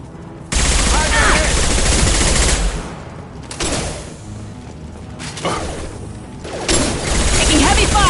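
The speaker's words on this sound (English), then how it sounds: "Taking heavy fire!" Gunfire in Mass Effect 2, dense bursts of rapid automatic shots in loud stretches separated by brief lulls, close and intense with mechanical clatter.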